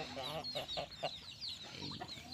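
Rooster and hens of village chickens cluck busily at morning feeding, a run of close, choppy clucks with a few louder calls. Faint background noise sits beneath them, and no one is talking.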